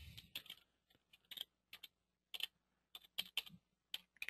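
A website address is typed on a computer keyboard in quick, uneven bursts of crisp key clicks, close and distinct against near silence.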